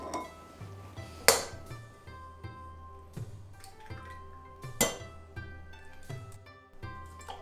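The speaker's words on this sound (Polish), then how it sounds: "rozpoczynamy od wbicia jajek do jakiegoś naczynia" Eggs for Japanese tamagoyaki are cracked against a vessel and dropped in, giving two sharp close taps among lighter clinks and shell knocks against a bowl in an otherwise quiet kitchen.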